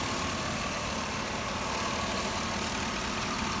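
A 2004 Chevrolet Suburban with a rebuilt transmission idles quietly, a steady low engine hum with faint injector ticking running evenly throughout, with no talk over it.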